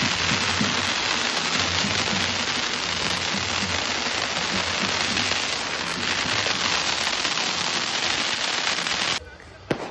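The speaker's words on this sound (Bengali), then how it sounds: "উপরে আতশবাজি ফাটছে আর নিচে তুবড়ি" Fireworks burst overhead while fountain firecrackers spray below during a groom's entry at a wedding resort in Mandarmani, a dense, continuous crackling roar that stops abruptly near the end.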